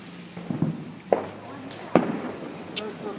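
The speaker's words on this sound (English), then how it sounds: "I hear some more fireworks going." Fourth of July fireworks pop and crackle in a few sharp bursts, several cracks spaced across the moment with people talking and reacting nearby.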